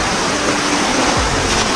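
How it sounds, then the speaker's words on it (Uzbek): Sea waves wash steadily into a hidden cove near Istanbul as a loud, continuous broadband roar of surf without pauses, heard up close and alone. "dengiz."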